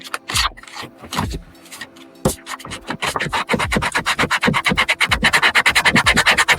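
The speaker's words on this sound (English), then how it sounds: "If you have some sandpaper nearby, the sandpaper." Sandpaper rubbed by hand over the corners of a small handmade ultralight thumb box, giving close, dry scratchy strokes that start irregular and settle into a fast, steady back-and-forth rhythm.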